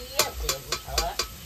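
Okra (bhindi) sizzles and fries in a pan while being stirred, a close, steady crackling hiss punctuated by five rhythmic scraping strokes of the spoon.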